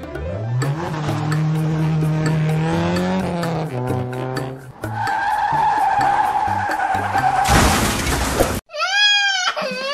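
A bus in Minecraft brakes and skids, giving a loud, warbling tire-squeal-like screech with pitch sweeps and a harsh burst near the end, followed by a brief wavering squeal.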